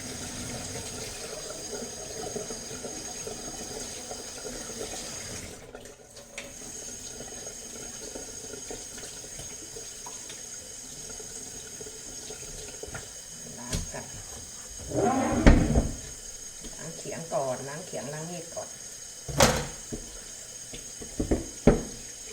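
Tap water running steadily at moderate volume while items are washed for making rad na, with splashing and clattering bursts near the end.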